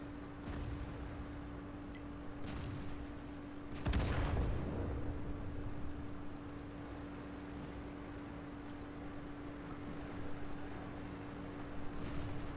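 A Churchill III tank fires its cannon in World of Tanks, producing a sharp, loud boom with a rumbling tail over a low steady hum, amid a few fainter distant shots.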